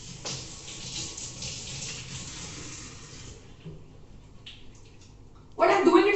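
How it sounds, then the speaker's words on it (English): Tap water runs steadily into a sink while hands are washed, a soft continuous splashing that ends in a sudden louder burst of flow at the close, with voices speaking faintly around it. "Wash your hand, Pratyaksh."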